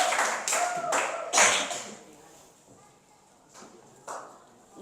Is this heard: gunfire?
no